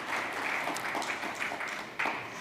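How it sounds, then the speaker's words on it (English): Round of applause from a conference audience for a panel discussion at FBS MENA 2022, a dense, moderately distant wash of clapping lasting the whole moment. "Can we have a huge round of applause for this wonderful panel discussion?"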